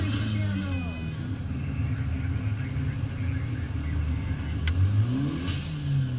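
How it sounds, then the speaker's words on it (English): A sports car engine revs steadily with a continuous loud drone, then a brief sharp hiss of a turbo blow-off valve releasing near the end, heard from inside or close to the car. "listen to that blow-off valve"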